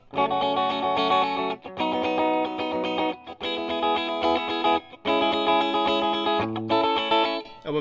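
An electric guitar on its middle pickup position, played through distortion and chorus effects with the treble turned off, strumming loud chords in short bursts separated by brief pauses.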